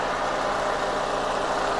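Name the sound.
Perodua Myvi 2009 four-cylinder engine idling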